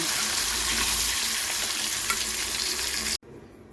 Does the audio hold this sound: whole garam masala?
yes